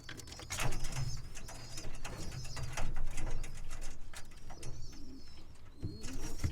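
A banded pigeon being fitted with a leg band gives soft, low coos that recur over the clip, close by and moderately loud, alongside faint mechanical clicks and light handling noise.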